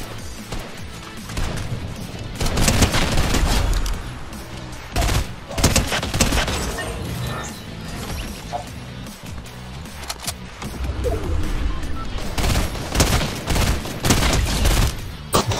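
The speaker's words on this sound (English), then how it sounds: "Shooting all these guys out of the air for a ton of damage." Dense gunfire from the Fortnite Reload battle-royale video game, repeated bursts and volleys with crashing impacts and booms over a busy in-game soundscape, loud and sustained across the whole stretch.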